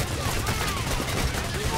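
Continuous gunfire rattles through a Payday: The Heist shootout, a dense, steady wash of rapid shots at fairly close range, with players talking over it.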